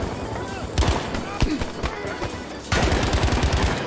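Automatic gunfire in Battlefield V, rapid bursts of close, loud shots separated by short pauses, then a longer sustained burst, with someone talking underneath.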